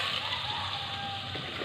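Water pours steadily into a pot of pata tim cooking with pepper, bay leaf, soy sauce and pineapple sauce, a continuous close splashing hiss with no talk.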